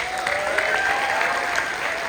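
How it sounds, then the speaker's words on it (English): A school symphonic band's audience gives a warm round of applause at an assembly, a steady dense clapping from a crowd that fills the whole stretch without a break. "let's give again our symphonic band a warm round of applause"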